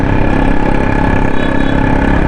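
Motorcycle engine running steadily while riding through Karachi streets, a loud, close, continuous drone with a constant hum and no speech.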